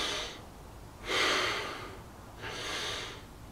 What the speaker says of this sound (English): the stressed out breath. It looks something like this.